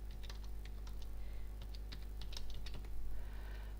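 Invoice details are typed on a computer keyboard in a quick, uneven run of close, crisp keystrokes over a low steady hum.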